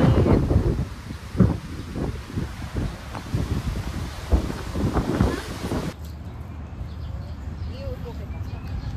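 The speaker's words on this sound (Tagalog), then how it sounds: "Sarap ng hangin." Wind gusts across an open farmstead in Lipa, Batangas, buffeting the microphone in uneven bursts with rustling leaves, while people talk nearby; the roar eases to a softer hiss near the end.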